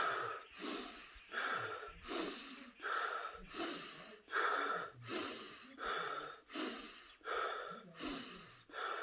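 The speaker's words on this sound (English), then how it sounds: "Use nose to inhale and mouth to exhale to practice abdomen breathing like Marines." Steady cycles of abdominal breathing fill the clip: about ten audible nasal inhales with snorting, airy texture, each followed by a mouth exhale, close and regular, with no talking.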